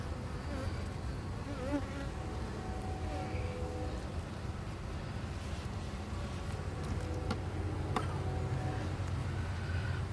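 Honey bees drone during a backyard hive inspection, a dense, continuous buzz of many insects close by with individual passes rising and falling, steady throughout.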